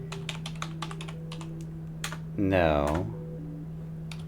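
Clicky keystrokes on a computer keyboard come in short irregular bursts, close and fairly quiet, over a steady low hum. A brief spoken word interrupts the typing partway through.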